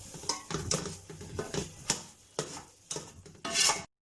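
Sarson ka saag mixture being stirred in a pot, with a series of about eight distinct scraping strokes of a spoon against metal, close and fairly quiet, the last stroke brighter and longer.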